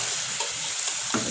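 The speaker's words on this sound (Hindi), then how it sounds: "अच्छी तरह से 5 मिनट भून लेंगे" Desi chicken pieces sizzle and fry while being roasted in a hot pan, a continuous loud crackling hiss with small stirring scrapes.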